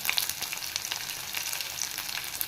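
Ginger, cloves, roasted gram, coconut and onion fry in a pan with a steady, fairly loud sizzle and occasional crackles and stirring, with no talking.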